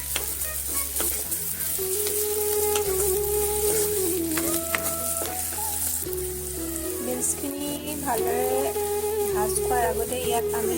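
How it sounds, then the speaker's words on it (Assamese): Beans fry in a pan with a constant crackling sizzle and occasional scraping stirs as part of a homemade Maggi noodle dish, with background music playing throughout. "বিনছখিনিও আমি ভালদৰে ভাজি ল'ম"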